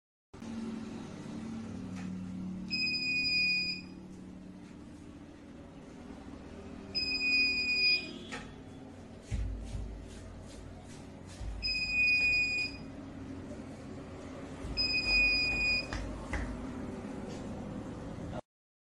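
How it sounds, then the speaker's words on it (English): A buzzer on a hobby robot's ultrasonic security system sounds four times, short steady high electronic tones spaced a few seconds apart, over a constant low room hum. "then buzzer sound will turn on."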